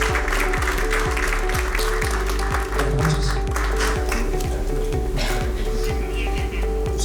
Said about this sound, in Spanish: Un fuerte aplauso para José Chevasco.